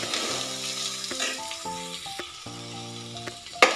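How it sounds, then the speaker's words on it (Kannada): Onions with green and red chillies fry in hot oil, a steady close sizzle with a few clinks of a utensil, while a voice speaks over it. "ಸೇರಿಸಿ ಇದನ್ನು 1 ನಿಮಿಷಗಳ ಕಾಲ ಚೆನ್ನಾಗಿ ಫ್ರೈ ಮಾಡ್ಕೊಳ್ಳೋಣ."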